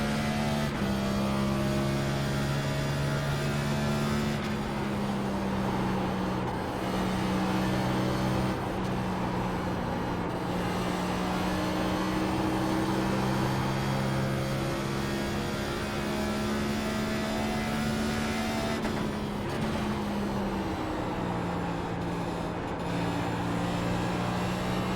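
Simulated NASCAR stock car engine in iRacing at Darlington, a steady loud drone whose pitch rises and dips with shifts through the lap, alone with no talk.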